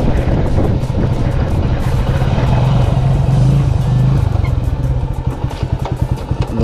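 Motorcycle engine running on a muddy road, a loud, close, continuous rumbling drone with clattering texture that holds steady throughout.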